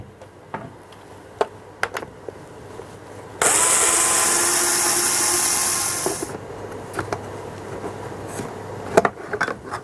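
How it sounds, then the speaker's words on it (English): A power driver whirs steadily for about three seconds while taking out the screws that hold the motor cover on a Sebo X1 upright vacuum. It is loud and close, with faint clicks and handling noises before and after. "To get to the motor, I need to remove the motor cover, which is held in place by 4 screws"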